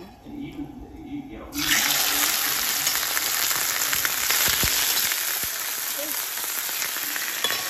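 Chicken dropped into melted ghee for a curry bursts into a loud, dense, hissing sizzle after a quieter start, steady and close for the rest, with a voice talking faintly underneath.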